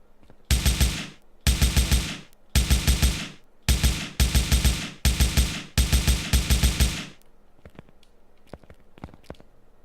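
Loud, close bursts of automatic gunfire in the Invector TPS Battle Royale game come in about eight evenly spaced volleys, followed by scattered faint clicks and taps.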